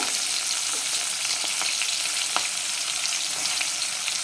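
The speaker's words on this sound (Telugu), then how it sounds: "ఆయిల్ అయితే హీట్ అయిపోయింది సో ఇప్పుడు కొంచెం మిర్చి అండ్ ఆల్సో ఉల్లిపాయ" Green chili and onion fry in heated, previously used oil for prawn fried rice, making a steady close crackling sizzle with scattered small pops throughout and no talking.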